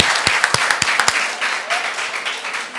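An audience applauds Mr. Ba Mamadou Gando, named fifth at a ceremony: a steady wash of clapping with a few sharp, close claps near the start, then continuing evenly at moderate loudness.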